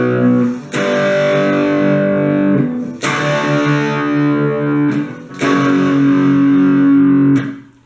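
Heavily distorted electric guitar picks the interlude chords of a song once each, four loud struck chords ringing out in turn with brief gaps between them.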